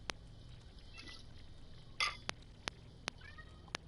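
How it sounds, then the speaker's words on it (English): A pet cat meows faintly a couple of times indoors, with sharp, isolated clinks of dishes or utensils and one brief louder rustle in a quiet room. "Do you hear this cat, Tony?"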